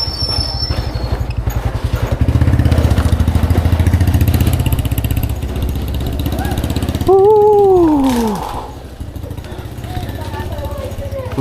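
A motorcycle engine runs steadily close by, a low continuous rumble throughout, with people talking over it and a brief rising-and-falling tonal sound partway through.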